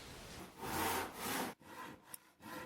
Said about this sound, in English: Cut both back legs R from one piece of wood